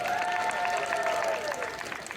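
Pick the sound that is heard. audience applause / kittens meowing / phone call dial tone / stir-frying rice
audience applause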